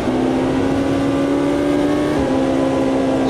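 A C Class race car in the racing game Automobilista 2 holds a loud, steady engine drone at a constant pitch, with a brief dip near the end, and no talking.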